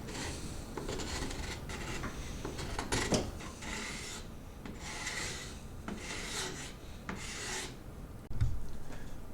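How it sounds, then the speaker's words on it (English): Continuous rasping scrape of a draw knife held at an angle and pulled across the wood of a selfbow, repeated strokes up close with no talking. "turn your draw knife at an angle and draw across them."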